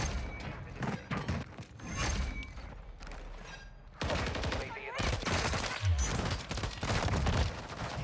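Bursts of automatic gunfire in Modern Warfare 3 multiplayer, repeated rapid loud shots in clusters with thuds, heard under game music and occasional talk.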